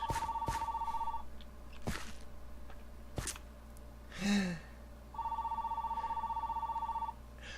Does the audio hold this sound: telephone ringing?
yes